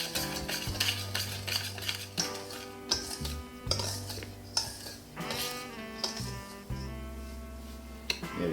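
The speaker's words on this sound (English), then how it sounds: "Now let's mix all the dry ingredients first" Dry ingredients for a turmeric cake, including turmeric powder and salt, are stirred together in a bowl, giving rhythmic scraping and light utensil clinks under steady background music.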